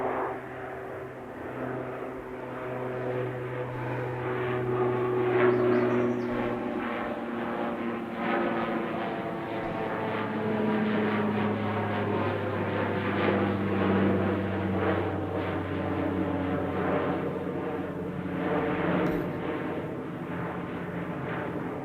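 An airplane departs Edmonton International Airport with a sustained, moderately distant jet engine roar that swells and holds over about twenty seconds, no voices present.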